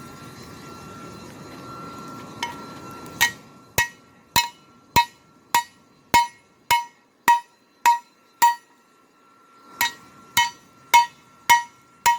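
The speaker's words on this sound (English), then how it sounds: "I'm going to start hammering a little bit" Sharp ringing metallic hammer strikes on hot rebar on an anvil, about a dozen evenly spaced blows with a short pause midway, loud and close.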